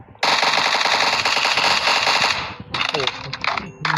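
Automatic gunfire from a weapon in Minecraft empties a full magazine in one loud, rapid, unbroken burst of about two and a half seconds, followed by scattered clattering game sounds.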